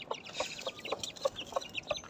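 Chickens and chicks clucking close by in short, repeated bursts as they are shut into their coop at evening, with no one speaking.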